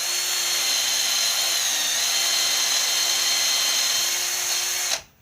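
A power drill whirs at a steady high pitch for about five seconds, loud and close, drilling out a ball-bearing hole to half an inch, then spins down and stops.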